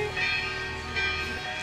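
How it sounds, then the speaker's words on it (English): Church bells ring at 8 a.m. in Positano, a sustained, fairly faint metallic tone with two soft swells, heard alone. "Can you hear the bells? It means it's 8 a.m. here in Positano."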